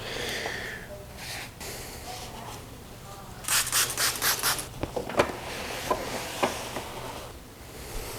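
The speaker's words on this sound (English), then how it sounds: "let's get some cleaner here and clean this" Cloth rubbing and wiping over the detached plastic bumper of a BMW E92 335i with cleaner, a soft scrubbing hiss with a burst of quicker strokes midway and a few sharp taps, close and moderately quiet.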